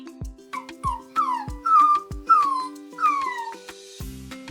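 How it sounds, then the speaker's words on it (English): A puppy gives a run of about six whimpering yips with rising-falling whines, close and clear, with short pauses between them and a brief noisy thump at the end. "It's a puppy."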